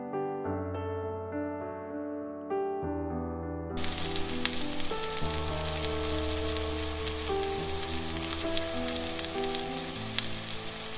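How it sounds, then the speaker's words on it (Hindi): Garlic frying in hot oil in a pan, giving a steady, bright sizzle that continues beneath background music. "तेल मातशें गरम जालें की पयलीं आमी लसूण तळसून घेवया"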